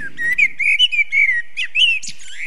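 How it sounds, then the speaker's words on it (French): Bird sound played as an extract in a sound-guessing game between streamers: a series of short, high, whistled chirps and trills repeating over about two seconds, clear and close with no talk over them. "Un oiseau. Logique."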